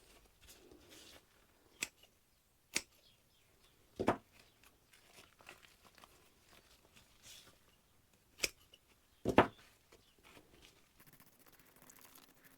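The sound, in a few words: cutting rotten bits off dahlia tubers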